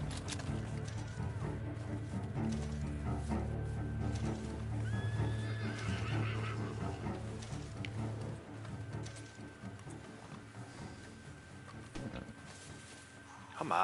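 A horse in the video game Red Dead Online whinnies and its hooves clip-clop along, heard as a mix of gallop beats and a neigh under game sounds and occasional faint talk.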